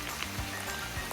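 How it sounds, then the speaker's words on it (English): Steady rain falling in a foggy pine forest, a dense close hiss with scattered drips, alone and without talk. "Might have spoke a little soon on the rain. Definitely started coming down out here."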